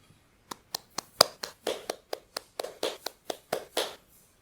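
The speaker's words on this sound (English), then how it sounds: "or clap 300 BPM" A single pair of hands claps quickly and steadily, about fifteen sharp, close claps near 300 beats per minute, with nothing else heard and a short pause at the start.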